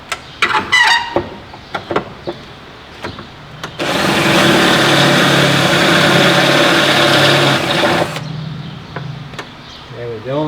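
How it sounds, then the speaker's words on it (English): A drill bores out a rivet on the left front window regulator of a 1997 Ford Crown Victoria LX, a loud steady grinding whine lasting about four seconds, framed by short clanks and handling noises before and after. "Now I gotta drill that rivet out."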